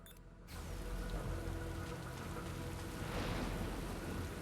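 Steady rain falling at a heliport in the video game Metal Gear Rising: Revengeance, a continuous broadband hiss that swells slightly after the first half second and holds evenly with no voices.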